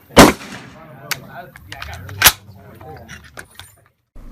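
An M1 Garand rifle in the video game Hell Let Loose fires one sharp loud shot, followed by mechanical clicks and rattles, then a second sharp crack about two seconds later, with faint background noise.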